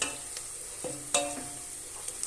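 Onions being sautéed in a pan for lentil soup: a quiet, soft sizzle with a few scraping stirs and light utensil clicks against the pan over a couple of seconds.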